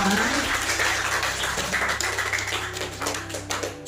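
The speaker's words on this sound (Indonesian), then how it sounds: "Tepuk tangan untuk kalian semua tentu secara kelompok." Students in a classroom clap for the presenting groups after their presentations, a dense, scattered patter of hand claps running steadily for a few seconds before thinning out.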